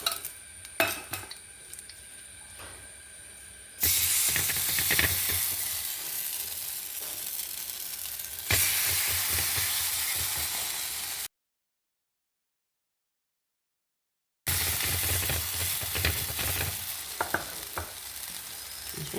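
Bamboo shoot rotti cooking on a dosa pan with butter and oil gives a loud, continuous close sizzle with occasional scrapes and clinks, broken by a brief silent gap.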